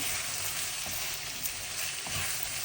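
Spice mixture for a beef roll filling frying in a pan, a steady dense sizzle with faint stirring scrapes, continuous and close.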